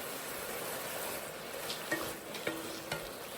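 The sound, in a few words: onion tossed into frying chicken, sizzling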